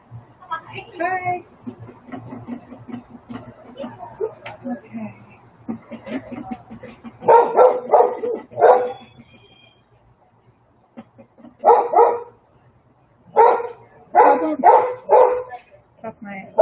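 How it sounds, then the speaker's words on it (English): A pet dog barks in bursts of sharp, loud woofs and yips close by indoors, repeated in several clusters, with a person talking quietly before the barking starts. "That's my dog."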